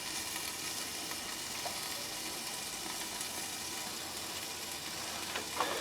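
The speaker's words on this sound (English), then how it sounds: "I'm going to put me a little bit of butter on the tortilla." Butter and a tortilla sizzle on a Blackstone flat-top griddle, a steady, close crackling hiss that runs unbroken from start to finish with no one talking.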